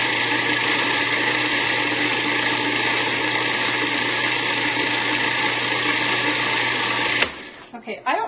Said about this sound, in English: food processor